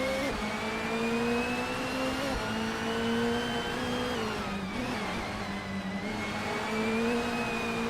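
A 1994 Opel Astra F GSI racing in a video game, with sustained engine drone and rising and falling revs from several cars, steady and fairly loud with no voices.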